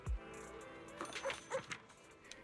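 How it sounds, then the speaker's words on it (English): A dog in the video game Zenless Zone Zero gives a few short yips and whimpers, quiet and close, in quick succession over a soft background hum. "Now, instead, I'm going to annoy the dog."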